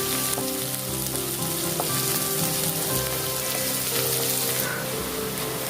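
Shallots, garlic and curry leaves sauté in hot oil for appalam kuzhambu, a steady close sizzle and crackle throughout with no talking.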